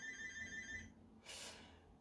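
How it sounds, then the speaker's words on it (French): A telephone ringing indoors at home, a series of short electronic trill pulses that stop partway through, followed by a brief burst of broadband noise; fairly quiet, with no talking. "Téléphone..."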